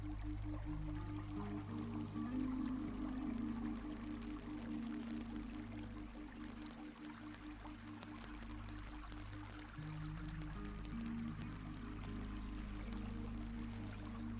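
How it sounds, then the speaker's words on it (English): Water flows in a continuous, steady rush, fairly faint and even throughout, blended with soft sustained musical tones. "Listen to the music of the water."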